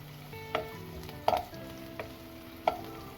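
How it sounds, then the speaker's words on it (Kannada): Onion fries in a pan with curry leaves under a soft continuous sizzle, punctuated by three or four sharp taps of a spatula against the pan, close and fairly quiet with no voices. "ಅರ್ಧ ಈರುಳ್ಳಿ ಕಲರ್ ಚೇಂಜ್ ಆಗೋವರೆಗೂ ಸ್ವಲ್ಪ ಫ್ರೈ ಮಾಡ್ಕೊತಾ ಇದ್ದೀನಿ."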